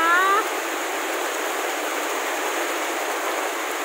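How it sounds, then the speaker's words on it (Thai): Rain falls steadily outdoors while a child plays in the rainwater, a continuous hiss with a brief high squeal at the start. "ได้เล่นน้ำฝนนะคะ"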